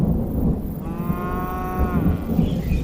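Cattle grazing on the hills of Tswapong in Botswana give a single long, clear moo at mid distance, set against a steady low outdoor rumble.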